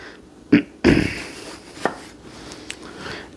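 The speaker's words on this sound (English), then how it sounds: "you're just going to slice this all up" A knife slices through an eggplant on a cutting board, giving two firm chops close together and then a few lighter taps, heard up close.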